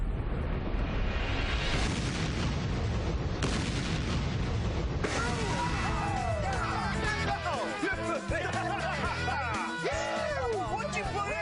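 An explosion goes off as a loud roaring boom followed by long rumbling, crackling debris and echoes, all close and dense throughout.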